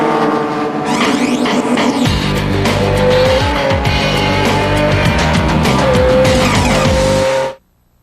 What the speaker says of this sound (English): Into the infield, that V8 able to get off those corners so well.